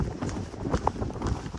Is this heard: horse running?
yes